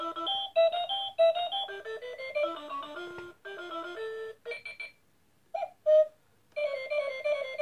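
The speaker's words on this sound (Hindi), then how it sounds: "ये देख रहे हैं अलार्म के लिए ये सब साउंड है।" A digital projector clock cycles through its built-in alarm tones, bright electronic melodies and chiming beeps from a small speaker, each snippet cut off with short silent gaps before the next tune starts.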